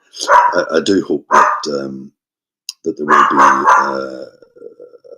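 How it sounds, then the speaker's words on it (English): A dog barks and yelps in several sharp bursts close to the microphone, overlapping and interrupting a person speaking. "Excuse me, that's my dog."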